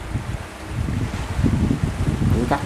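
A fishing boat pushes into port at Cà Ná in strong wind, with steady rumbling engine and water noise under heavy gusts buffeting the microphone, close and continuous.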